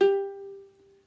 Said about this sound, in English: show you how to tune the ukulele again